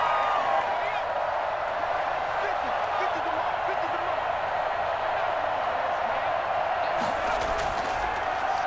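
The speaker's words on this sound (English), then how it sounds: "You can hear the roar of this crowd in OKC." A stadium crowd at an indoor football game in Oklahoma City keeps up a loud, steady roar that fills the clip, with a burst of cheering near the end and a commentator talking over it.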